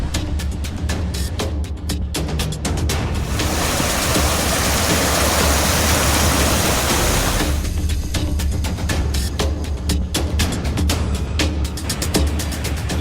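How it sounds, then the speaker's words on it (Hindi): Swollen Betwa and Yamuna rivers in flood during record heavy rain in Bundelkhand, Uttar Pradesh, give off a loud, continuous rushing roar of churning water, with bursts of crackling splashes, no voices. "नदियों का शोर डरा रहा है।"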